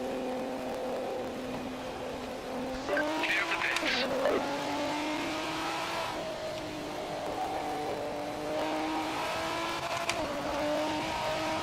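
A Lister race car circulates Monza in the Project Motor Racing game, its engine droning steadily with rising and falling revs, a short squeal of tires mid-run, and someone talking over it.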